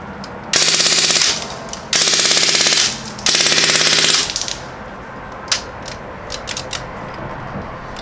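An Umarex Legends MP40 airgun fires full auto in three rapid rattling bursts, each about a second long, followed by a few faint clicks and handling noises.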